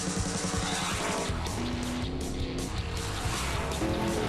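A race car on the Walt Disney World Speedway, part of the Richard Petty Driving Experience, gives a continuous, wavering engine whine with a hint of tire noise, heard from a distance and without talk.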